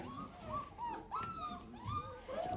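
A nursing female dog of a native breed whimpers close by in a string of high, wavering whines that rise and fall, with brief pauses between them.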